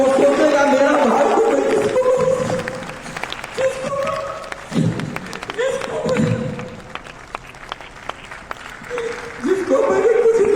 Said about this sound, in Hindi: उनके लिए भी एक जोरदार ताली बजा दें